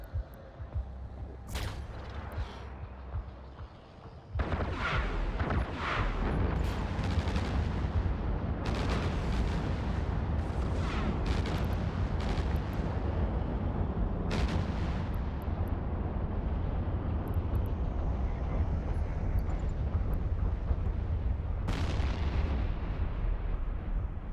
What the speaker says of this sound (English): They upgraded their explosions a while ago,